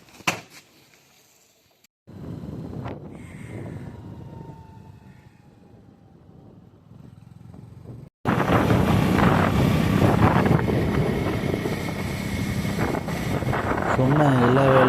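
Motorbike ride with strong wind rushing over the microphone, a constant loud roar that starts abruptly and continues, after a quieter stretch with a faint passing whine.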